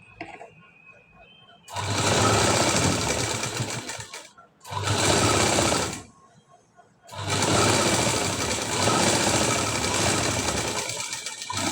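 Sewing machine stitching a high-neck blouse, running in three loud, steady bursts of rapid needle chatter separated by short pauses, close up with no talk over it.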